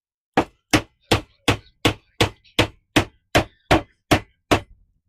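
A wooden dowel is driven in with a hammer: twelve sharp, evenly spaced blows in steady rhythm, close and loud, with near silence between strikes and no talking.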